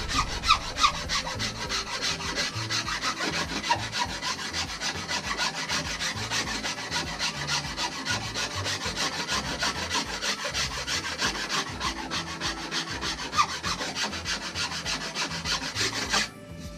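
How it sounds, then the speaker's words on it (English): A wood file rasps steadily back and forth along a longbow limb during tillering, continuous close scraping strokes with no talking over them. "Let's have a look with the file here and get rid of some of those marks that we made with the rasp around that section there"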